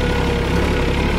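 A Mahindra OJA 2130 tractor idles close by, its engine a steady, loud, dense low rumble with an even pulsing throb across the whole short stretch.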